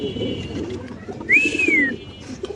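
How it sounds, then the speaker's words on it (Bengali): White Indian Bombay pigeons at a pigeon farm in Mirpur, Dhaka, give one clear rising and falling coo close by, with faint voices and background noise. "সাদা ইন্ডিয়ান বোম্বাই কবুতর যদি জুটি বড় নিতে চান কেউ"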